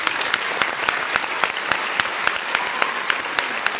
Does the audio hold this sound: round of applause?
yes